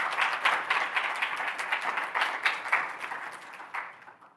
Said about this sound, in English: I would like to have a round of applause for Tom for that